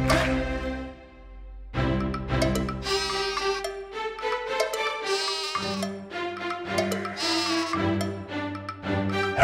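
Sung sheep-style bleats voiced over a bright instrumental backing in a French children's nursery song, a voice imitating the animal in melodic, repeated phrases at steady loudness.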